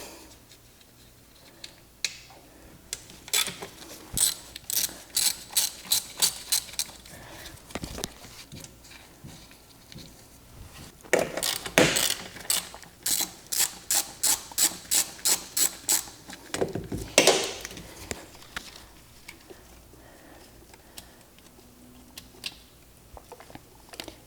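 A ratchet on an extension loosens intake bolts on a Mazda RX-7 FD with a 13B engine, giving close, rapid clicking runs in several bursts separated by quiet pauses, with no talk.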